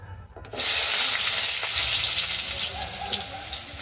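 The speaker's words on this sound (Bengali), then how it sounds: "আমি এবার আলু আর পটলটাকে ভেজে নেবো একটা একটা করে।" Potato and pointed gourd pieces hit hot oil in a kadai, setting off a sudden loud, bright sizzle that stays strong and steady, close by.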